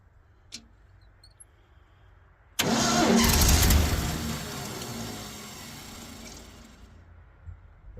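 Asplundh JEY wood chipper engine starting up with a sudden loud roar after a brief click, then settling and fading into a steadier running rumble.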